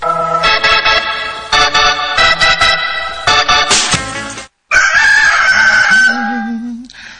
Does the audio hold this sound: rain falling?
no